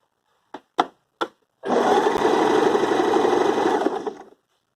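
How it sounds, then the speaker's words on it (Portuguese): Domestic sewing machine fitted with a button-sewing presser foot, stitching a button through its two holes: three brief clicks, then a steady, close, even run of fast mechanical stitching for about three seconds that stops abruptly. "agora eu vou pisar no pedal e fazer o ponto rápido"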